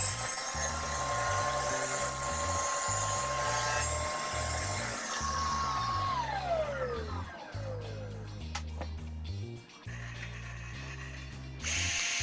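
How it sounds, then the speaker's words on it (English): Power tool cutting wooden supports for a lift-top coffee table, a loud sustained whine with a pitch that shifts and falls during the cut, then rougher rasping noise toward the end. "here I am just cutting the actual supports that are going to go in"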